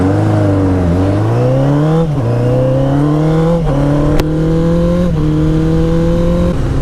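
Motorcycle with about 30,900 miles running smoothly while being ridden, a close, steady engine drone with several gear shifts as revs dip and climb again.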